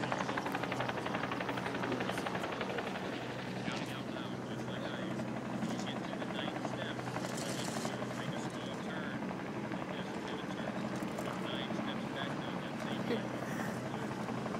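Medical helicopter landing nearby, its rotor producing a steady loud thudding chop and engine whine that stays constant throughout, with no pause.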